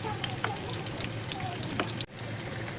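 Sweet potato pieces sizzle steadily in a hot pan, a continuous frying crackle with occasional pops and a brief stirring scrape near the end.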